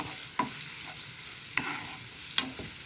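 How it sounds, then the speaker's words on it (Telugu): Ginger garlic paste fried in oil for a drumstick pickle, a soft low sizzle with three sharp spoon clinks against the pan, close but quiet. "ఇది కాస్త పచ్చి వాసన పోయే వరకు మనము ఈ ఆయిల్లో అల్లం వెల్లుల్లి పేస్ట్"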